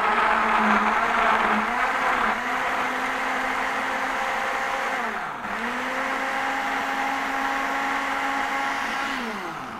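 An electric blender whirring through a cantaloupe almond smoothie, a loud close steady motor drone whose pitch dips briefly a few times as the load shifts, with no talking.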